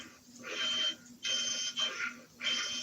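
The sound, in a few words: beeping from Meccanoid robot story function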